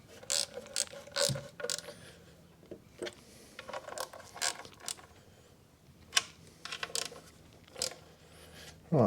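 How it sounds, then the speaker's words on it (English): A ratchet wrench clicks in short bursts of quick pawl ticks, close and fairly quiet, with pauses between strokes while working on a spark plug change on a 2008 Honda Civic Type R 2.0 petrol. "Not a very good ratchet, that one."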